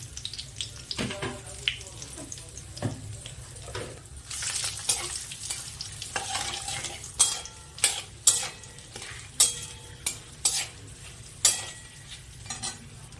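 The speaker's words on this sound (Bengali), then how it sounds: "শুকনো লঙ্কা ফোড়ন দিলাম। তার সাথে কটা তেজপাতা দিয়ে দিলাম।" Dried red chillies and bay leaves temper in hot oil while khichuri is cooked. A soft sizzle runs under a rhythmic series of sharp spoon scrapes and clinks against the pan, with the strikes growing more regular toward the end.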